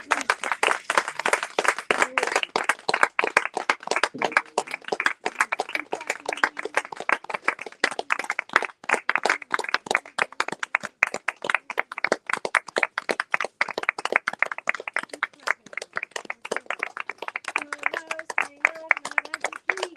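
A group claps rapidly and continuously at a Christmastime full moon fire homa gathering, a dense, crisp, close patter lasting the whole stretch, with voices joining in faintly toward the end.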